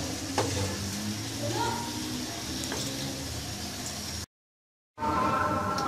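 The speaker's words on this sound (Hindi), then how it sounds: "बस अभी ये भून ही रहे।" Keema fries in ghee in a pan with a continuous dense crackling sizzle. The sound cuts out briefly to silence, then resumes just as strongly.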